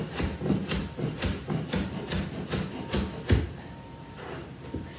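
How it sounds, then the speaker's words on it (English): A sharp kitchen knife chops vegetables on a cutting board for pico de gallo salsa fresca, a steady run of quick, evenly spaced knocks that slow and thin out near the end, close and alone. "when I'm chopping, I'm keeping the blade in contact with my knuckles"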